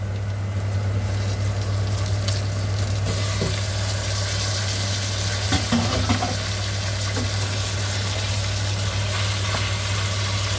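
Chicken thighs roasting in a hot pan give a steady, even sizzle with a constant low hum underneath and a few faint clinks, no one talking.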